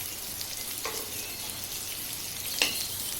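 A tablespoon of butter melts in a hot kadai with a soft, steady sizzle, broken by a couple of brief scraping stirs, close and without talk.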